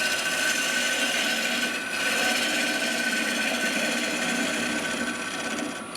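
A gouge cuts a zebrano wood bowl spinning on a lathe, working from the centre inwards and giving a continuous close, loud scraping rush over the motor's hum, with a brief dip near the two-second mark.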